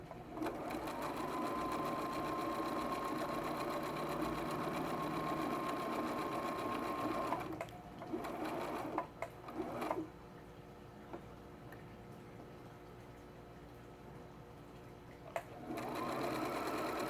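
A sewing machine back stitches a seam on a fabric drawstring pouch, running steadily and close for several seconds, then stopping, with a few short bursts and quiet pauses before it runs again.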